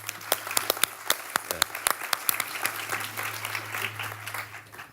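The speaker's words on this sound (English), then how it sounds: "Can we have a big round of applause to the team?" An audience at a business talk applauds the team, starting with sharp scattered claps that thicken into steady applause, with a brief spoken word near the start and a low hum underneath.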